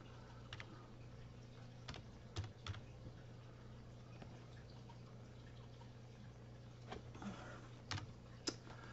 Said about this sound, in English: I'm typing in a URL